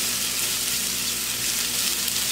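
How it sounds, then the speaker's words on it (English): Sliced mushrooms frying in a hot pan for chicken marsala, a steady loud sizzle and crackle of bubbling fat close up, with no voices over it. "Look at the sizzle now."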